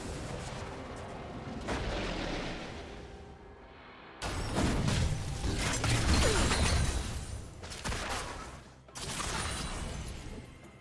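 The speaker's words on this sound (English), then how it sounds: "Blue team's turret has been destroyed." A turret being destroyed in the League of Legends video game, heard as loud crashing, blasting explosions in several bursts amid dense game effects, with sharp cuts between sections.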